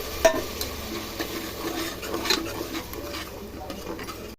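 Onion and tomato sautéing with ginger-garlic paste for chicken biryani, with a steady sizzle, scraping stirs and occasional utensil clinks against the pan throughout, close and with no voices.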